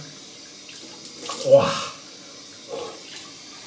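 Cold tap water runs and splashes as someone rinses their face after shaving, a brief swell of water at close range, with a short exclamation from the person.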